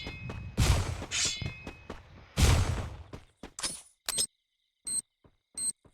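Sharp game explosions and impact bursts, loud and close, with crackling debris, followed by a few shorter electronic beeps and clicks.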